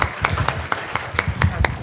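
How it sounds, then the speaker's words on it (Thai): Applause from an audience, a short burst of rhythmic clapping with individual hand claps standing out fairly close and clear. "ปรบมือดังๆให้หนิงครับ"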